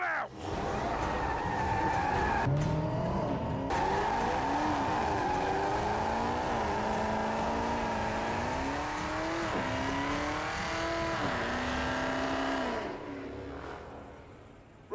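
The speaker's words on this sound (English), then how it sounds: "that was just a celebratory burnout" A car does a celebratory burnout. Loud, sustained tyre squeal and a revving engine carry on for about twelve seconds, with the pitch wavering as the wheels spin, then fade abruptly at the end.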